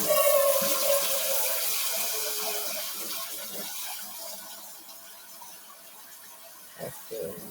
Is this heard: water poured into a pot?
yes